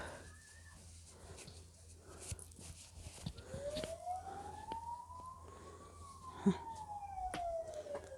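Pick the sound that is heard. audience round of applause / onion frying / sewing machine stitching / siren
siren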